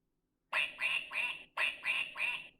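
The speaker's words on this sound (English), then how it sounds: "what does the duck say?" A duck quacks from a children's animal sound book, two close, loud bursts of three quick quacks each, with no talking over them.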